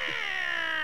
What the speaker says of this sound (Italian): Ancora il gatto.